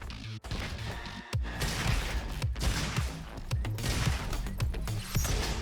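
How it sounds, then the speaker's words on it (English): Rapid gunfire and exploding blasts from the shooter game Roboquest, a dense run of sharp, loud shots with heavier booms punctuating the barrage, close and continuous throughout. "Every 2 shots triggers an explosion."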